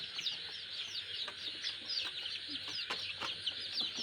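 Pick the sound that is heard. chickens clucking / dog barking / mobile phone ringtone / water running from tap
chickens clucking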